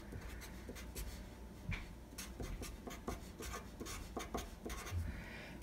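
Pen or pencil scratching out a math equation on paper, a steady run of short strokes and taps at close range with no talking.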